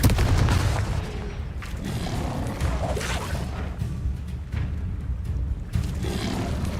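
A Confringo blasting spell goes off in Hogwarts Legacy, a loud booming explosion at the start followed by crashing impacts and rumbling debris, with further scattered bursts and no talking.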